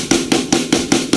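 A worship-style snare drum struck off-center, ringing with overtones; four evenly spaced hits about every fifth of a second, each with a bright crack and short sustained ring, played alone and close.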